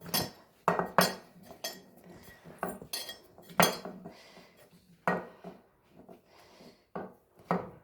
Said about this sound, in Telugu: ఈ పిండిలో కారం పసుపు ఇవన్నీ మంచిగా మిక్స్ చేద్దాం